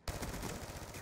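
Rapid automatic gunfire from Black Ops 2 erupts after a brief silent start and keeps going as a loud, dense, continuous burst of shots.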